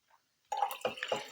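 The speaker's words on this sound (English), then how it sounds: "you just add the cold water." Cold water poured into a jar for a homemade natural deodorant mix, heard as a short, close splash and gurgle after a faint tap, with a few quick bursts of liquid.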